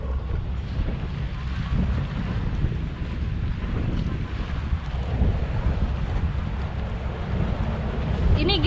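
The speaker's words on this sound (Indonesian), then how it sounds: "besar banget anginnya itu" Strong wind at sea batters a fishing boat during a storm, a steady roaring rumble of gusts and microphone buffeting with waves washing beneath, loud and constant throughout.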